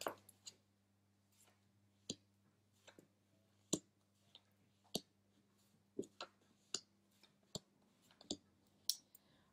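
Irregular crisp clicks and soft slaps of tarot cards being shuffled, fairly quiet and close, with a low steady hum underneath.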